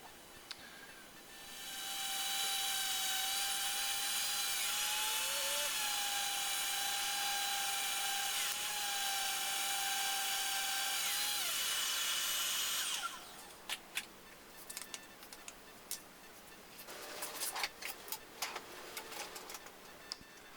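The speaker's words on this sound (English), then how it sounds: "now I'm getting everything sanded down so I can put a clear coat on it" A power sander works over a wooden board for a homemade mic stand, a loud steady whine running about eleven seconds before cutting off, followed by scattered clicks and handling knocks.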